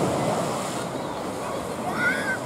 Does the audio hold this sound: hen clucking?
no